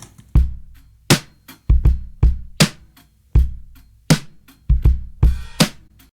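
Dry, unprocessed drum kit playing a sparse beat, with punchy kick thumps and sharp snare cracks at an uneven rhythm and a short cymbal splash near the end, close and loud with clear gaps between hits.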